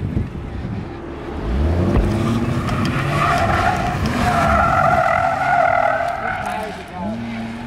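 A car slides with its tires skidding and squealing, loud and close for several seconds, rising and falling as it drifts, with voices shouting nearby.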